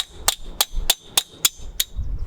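Six sharp, evenly spaced hammer strikes on metal, knocking a stuck screw out of a bicycle part, ringing brightly at close range with no talking.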